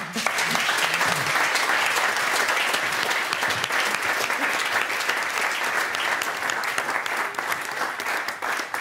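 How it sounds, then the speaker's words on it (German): A studio audience at a televised discussion on death and dying applauds at the close of the programme, a dense, sustained round of clapping filling the whole stretch and easing slightly at the end. "Nochmal einen großen Applaus."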